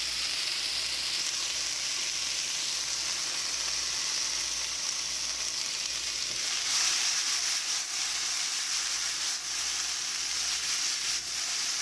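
Onions frying in a pan give off a steady, even sizzle and hiss that goes on unbroken, close by and moderately quiet, with no one talking.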